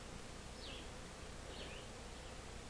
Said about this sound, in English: Look at the beautiful beehives you built, Howie.